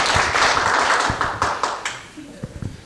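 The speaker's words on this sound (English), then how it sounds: "let's give a round of applause to Henry" A book launch audience claps for Henry in a brief burst of applause that thins into a few scattered claps, with voices talking over it.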